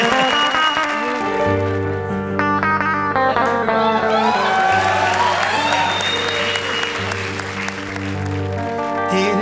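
Loud, sustained studio-audience applause at a televised comedy show fills the whole stretch, with steady music tones playing underneath it.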